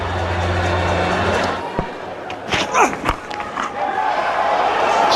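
A cricket crowd at a 2009 Australia versus West Indies Test roars steadily after a boundary hit straight down the ground, a broad, continuous wash of cheering that dips briefly and swells again, with a few sharp claps and shouts standing out.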